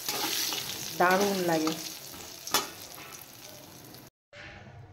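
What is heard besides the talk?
frying bori lentil dumplings in oil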